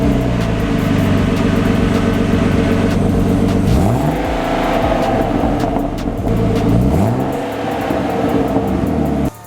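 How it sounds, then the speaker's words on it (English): A turbocharged BMW E36 M3 sits in a garage after a cold start, idling loudly and steadily before two sharp revs rise and fall, then cutting off abruptly at the end. "let's do a cold start, and then I'll do some revs here in the garage"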